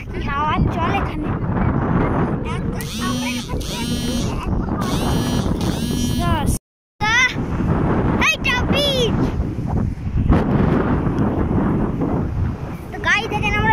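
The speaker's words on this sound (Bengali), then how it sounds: "হাওয়ার কি প্রেশার" Strong wind buffets the microphone at a crowded beach, a loud, rough roar running nearly throughout while people talk over it.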